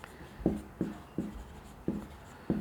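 Pen or chalk strokes writing a circle equation by hand in a class 6 maths lesson, five or six short scratchy bursts spaced roughly half a second apart, close and fairly quiet with no talk.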